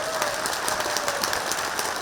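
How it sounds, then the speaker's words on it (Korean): Concert audience at a special outdoor concert applauding steadily, a dense, even wash of clapping from a large crowd that holds at full strength throughout. "우리 모두가 그분들께 큰 박수 한번 보내드리도록 하겠습니다"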